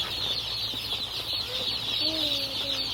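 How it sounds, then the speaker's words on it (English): Baby chickens on a pastured poultry farm give a few thin, high peeps over a steady hiss of background noise, faint and scattered, with no voices. "Yeah, these are chickens. They're babies."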